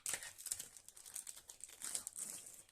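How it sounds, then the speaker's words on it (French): Plastic packaging of provolone cheese being opened, close, quiet crinkling and crackling in rapid irregular bursts throughout. "je vais déjà ouvrir mon provolone"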